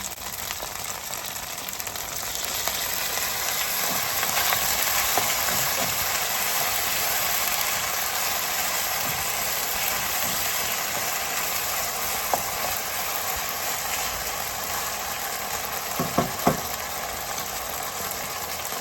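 Browned, crispy beef sizzles loudly in a stir-fry pan as rice wine is added, a steady broad hiss running unbroken throughout with a few faint clicks and knocks near the end.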